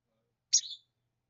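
A pet bird gives one short, high chirp, close and clear, in otherwise near silence.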